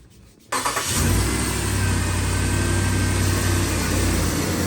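A car engine cranks and catches after a brief quiet moment, then settles into a steady, loud idle with a low rumble that continues to the end, close to the listener.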